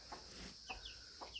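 Several soft, short clucks from chickens close by, spaced irregularly over a quiet background hum.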